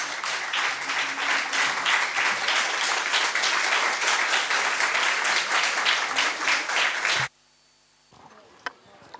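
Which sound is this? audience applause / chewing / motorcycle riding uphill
audience applause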